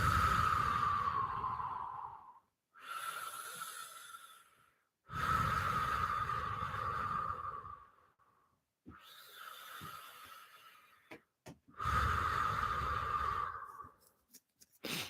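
Slow, deep breathing during a guided relaxation exercise, with five long breaths alternating between inhales and exhales, separated by short pauses. Each breath is close and airy, with a soft, throaty, whistling edge.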